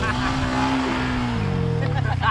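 Engine revs of a dirt bike in a motocross video game drone and rise and fall in pitch, heard under talk between players.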